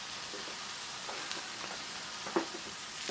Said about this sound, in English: we've got our onions sauteing over here for probably 10 minutes or so